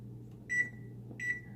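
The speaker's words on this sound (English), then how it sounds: "So I'm going to set the timer" A kitchen timer on a stovetop being set emits two short, clear electronic beeps about three-quarters of a second apart over a quiet, low background hum.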